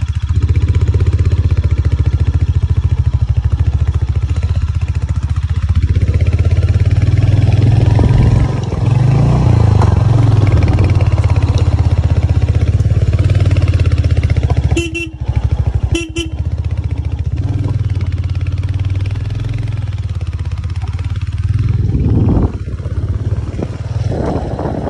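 A motorcycle ridden along a jungle track in a valley village, a loud continuous engine drone with rising and falling revs, a couple of brief horn blasts midway, no talking.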